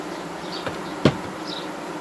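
A honeybee separated from its colony buzzing faintly near the hive, thin soft whining tones with a brief louder burst midway, no talking.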